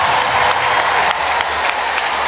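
A stadium crowd on the bends of an athletics track applauds steadily throughout, a dense wash of clapping and cheering with no pause.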